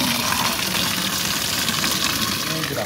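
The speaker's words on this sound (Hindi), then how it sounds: "इसको भी पानी वाटर पूरी भर लेते हैं, बड़ा ठंडा खार पानी आ रहा है।" Cold water pouring steadily from a tap into a container being filled for chickens, a constant hissing rush of water with no break.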